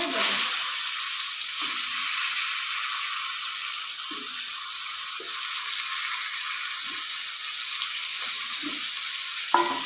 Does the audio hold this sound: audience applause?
no